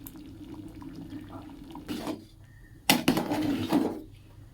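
A lid is set down on a pot of khichuri just sprinkled with ghee: a faint scrape, then a sharp metallic clank and rattle as the lid settles, over a low kitchen hum.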